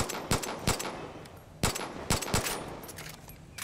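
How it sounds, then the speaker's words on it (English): Gunfire aimed at a shrine in Far Cry 5, with about seven loud, sharp shots in an irregular burst, some spaced and some doubled, each ringing briefly over steady background game sound. "we'll just put a couple of shots into that"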